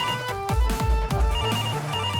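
A telephone rings with repeated electronic tones, loud and close, and no one talks over it.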